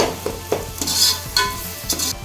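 Tomatoes sizzle and are pressed and mashed in hot oil in a pan while cooking masala for mutton biryani, with loud scraping stirs repeating about every half second over a steady frying hiss.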